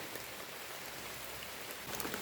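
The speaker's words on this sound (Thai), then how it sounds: "เพราะว่าฝนมันตก" Steady, dense rain pours down in a forest while mushroom hunting, a continuous hiss of drops on leaves and ground with no pauses and no speech.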